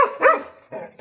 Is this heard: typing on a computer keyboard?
no